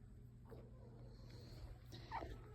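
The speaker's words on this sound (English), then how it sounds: "He's the littlest out of all 6 puppies" Two-week-old puppies from a litter of six give faint, high whimpers, with one louder whine near the end over steady low background hum.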